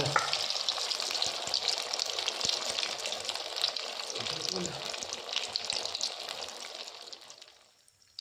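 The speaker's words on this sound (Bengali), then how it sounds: "ধৈর্য সহকারে ভাজতে হবে, হালকা হালকা মানে মিডিয়াম আছে" Bread rolls deep frying in hot oil give a steady, dense sizzle and bubbling crackle that holds near and loud, then fades off toward the end, with faint background noises.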